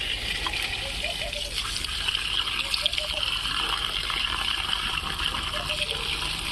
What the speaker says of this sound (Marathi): नळाला पाणी आल्यानंतर झाडाला टाकून घ्यावं लागतंय